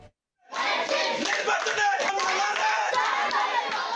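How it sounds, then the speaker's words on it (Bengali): Crowd of BNP party workers and supporters celebrating an election victory in Bangladesh, loud continuous cheering and chanting by many voices, starting abruptly after a brief silence. "বিজয় উল্লাসে মাতোয়ারা কর্মী সমর্থক।"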